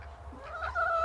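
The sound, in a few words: chickens clucking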